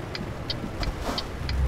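A truck engine drones steadily at low pitch while driving in Euro Truck Simulator, joined by a regular soft ticking like an indicator, with the engine swelling slightly toward the end.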